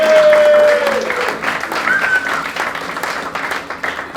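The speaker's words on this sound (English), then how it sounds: "let's just give Joe a massive round of applause again" Loud crowd applause for the organiser at a golf day, dense clapping from the start that thins and tapers over a few seconds, with a couple of whoops or voices rising over it.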